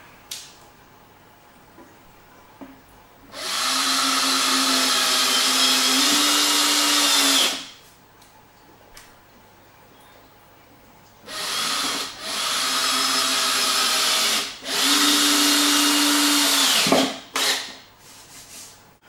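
A power drill drives screws into a wooden board, with two long whirring runs, the first about four seconds long and the later one broken into several short bursts, all loud and close with quiet pauses between.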